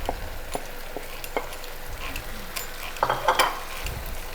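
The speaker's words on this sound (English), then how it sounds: "we're gonna just take our tomatoes and we're just going to just add those in nice and slow" Chopped tomatoes are stirred into soft onions in a hot pan, a steady low sizzle beneath scattered spoon scrapes and clacks, with a brief cluster of louder stirring knocks near the end and nobody talking.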